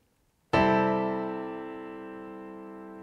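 A single piano chord with an added sixth and ninth is struck once after a short silence, ringing out rich and sustained as it slowly decays.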